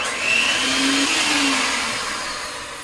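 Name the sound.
electric mixer mixing rum cake batter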